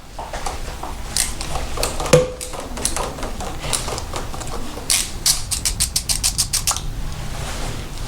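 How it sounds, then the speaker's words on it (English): An 8mm wrench loosens the windshield mount bolts on a Honda Rebel 500, with a sharp metallic clank and then a fast run of ratcheting clicks close by. "You're gonna need an 8mm. This is all you're gonna use to take these two off."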